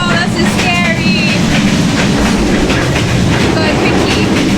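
Carriages of a Vietnamese passenger train rattling along the rails, a loud, continuous clatter and rumble heard from the gap between coaches, with faint metallic squeals over it.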